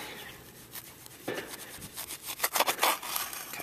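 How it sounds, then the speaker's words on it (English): A hand trowel cutting down through turf to take a soil sample, with scraping, crunching rasps that build in the second half, close and fairly quiet with no talking. "I'm just using a hand trowel here."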